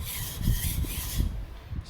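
A new knife stroked along a sharpening stone after being flipped over, a few close, rhythmic gritty rubbing strokes in quick succession with no voices.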